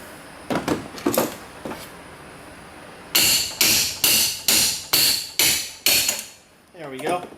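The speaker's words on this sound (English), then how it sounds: "now we're just going to tighten up the crescent wrench, and we're going to whack it out of there." Loud, sharp metallic whacks on a crescent wrench knocking an A/C tool loose on a Ford Ranger or Mazda B-series, a few scattered hits followed by a steady run of evenly spaced strikes close up, with no talking.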